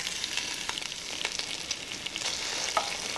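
Headless, deveined shrimp dropped into a hot pan of olive oil and sizzling garlic, giving a dense, steady, close crackle and hiss with small pops throughout and no voices.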